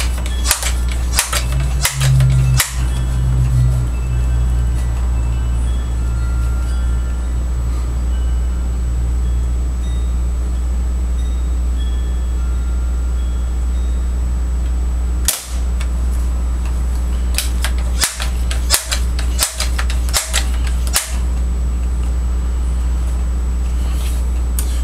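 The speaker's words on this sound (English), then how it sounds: "Just going to give it 5 pumps." Crosman 760 Powermaster air gun, pumped five times: a cluster of sharp mechanical clacks near the start, then a loud crack around mid-clip and several more sharp snaps later, all close over a steady low background hum.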